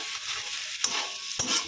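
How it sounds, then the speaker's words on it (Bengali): Prawns and green banana fry in a pan, a continuous sizzle broken by two sharp scraping strokes of a stirring spoon close by, with no talk. "চিংড়ি মাছ আর কাঁচকলাটা আমার ভালো করে ভাজা হয়ে গেছে"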